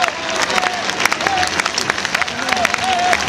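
Crowd clapping in time at a bullfight show, a dense steady patter of many hands with voices calling out over it.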